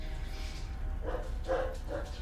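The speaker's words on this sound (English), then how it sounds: "Oh, more barking dogs." Dogs barking in a Nancy Drew mystery game, a few quick bright yips in the second half over a low game hum, moderately near.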